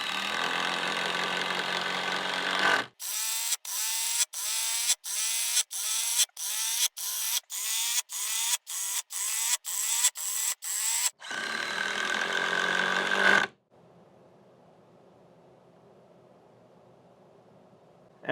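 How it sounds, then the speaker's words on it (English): A Ryobi impact driver sets a series of small fasteners, with a long whirring run followed by about fifteen short, sharp hammering bursts in quick succession and then another long steady run, loud and close before falling to quiet room noise. "we have our Ryobi. I'm going to see how it does with these small fasteners."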